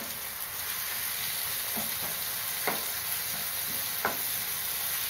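Onions and tomatoes sautéing in a pan for egg keema masala, a steady crackling sizzle broken by a few light stirring scrapes, with no voices.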